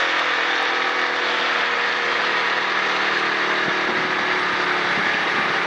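A stock car at Charlotte Motor Speedway coasts off the throttle, its engine holding a steady, dense rumble under heavy wind and road noise, loud and close from inside the cockpit.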